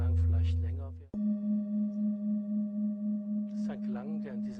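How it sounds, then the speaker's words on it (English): A struck singing bowl rings out alone after a burst of voice, its long pure tone sustaining steadily with a gentle regular wavering pulse before talk resumes over the fading ring. "Maybe you will notice that the sounds of the singing bowl change. They are prolonged. They become more pure."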